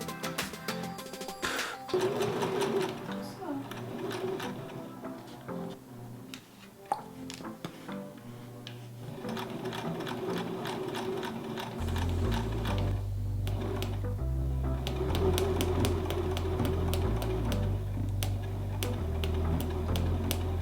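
A sewing machine stitches fabric for homemade face masks, running in a steady rapid mechanical patter with short pauses, then a louder continuous run with a deep motor hum in the second half.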